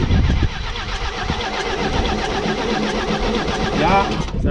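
A 1960s–70s Mercedes diesel truck cranks and rumbles loudly, with a dense, rough low-end clatter running throughout. People talk over the engine noise.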